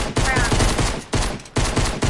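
Dense, continuous automatic gunfire in the video game Fortnite, loud and close, running in sustained bursts with two brief gaps and no talk.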